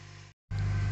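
A freshly started fuel-injected car engine idles with a low, steady hum, close and even, briefly cut off for a moment before resuming.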